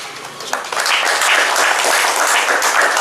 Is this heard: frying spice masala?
no